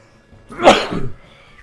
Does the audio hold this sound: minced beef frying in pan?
no